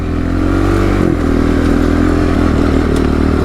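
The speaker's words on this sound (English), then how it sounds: "Try to keep the wheel spin down." A vehicle spinning its wheels on a dusty dirt road, a loud continuous engine drone with gravelly crackle and scraping, close and sustained throughout.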